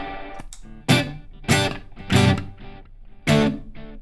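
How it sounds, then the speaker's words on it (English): Electric guitar played through an amplifier's built-in spring reverb while a touring pedalboard is assembled: several loud strummed chords and bursts, each trailing off in a splashy reverb wash, with no voices. "why don't I use the spring reverb in here?"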